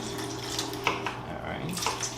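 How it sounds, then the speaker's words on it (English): Water poured into a mixing bowl while measuring 325 grams for a sourdough boule dough, a steady close trickle with faint background hum and no talking. "So I'm going to put in 325 grams of water, just like it says in the Jamie Oliver recipe."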